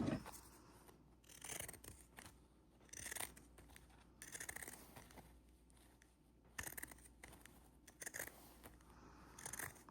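Scissors snip through the fabric corners of an adult bib, a series of short, crisp cuts in uneven bursts, fairly close, with no talk over them.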